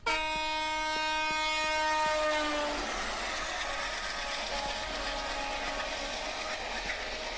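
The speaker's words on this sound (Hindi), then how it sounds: "हाँ ये ट्रेन है, ट्रेन चल रही है, ठीक है।" A train horn sounds in steady repeated blasts for the first few seconds over running noise, then the train keeps rolling with a loud, continuous rumble and clatter; no one speaks.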